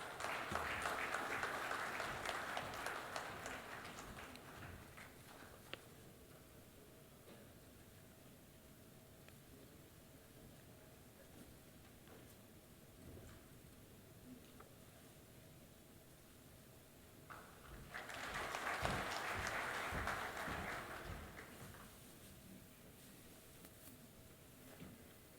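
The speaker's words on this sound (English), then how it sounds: "Please give them a round of applause." Two bursts of audience applause at a conference ceremony, moderate clapping for a few seconds at the start and again near the end, separated by a long quiet stretch of hall noise.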